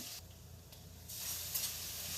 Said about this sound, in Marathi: लसण लाल झाला की याच्यामध्ये आपण मिरचीची भरड घालून घेते